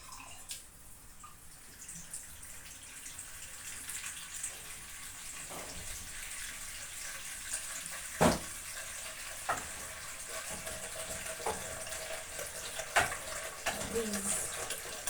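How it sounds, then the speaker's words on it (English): Water pours and splashes into a cooking pot of liver stew with a steady hiss, punctuated by occasional clinks and sizzles, while a person talks faintly. "So let me add a little bit of water."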